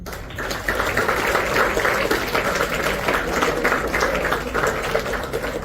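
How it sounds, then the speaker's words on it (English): An audience claps in a school hall: dense, sustained applause from many hands, steady and fairly loud throughout after a brief quieter start. "I'm glad to see some of the boys clapping."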